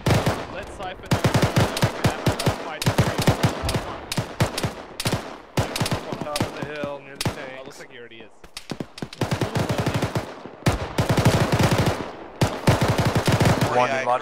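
Rapid automatic gunfire fills a tactical Arma firefight, with dense bursts of shots one after another and short gaps between volleys, loud and close throughout.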